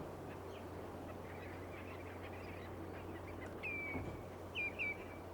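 Wintering ducks on a wetland in Kinmen give a few short honking calls near the end over a steady low background hum, fairly faint and without speech.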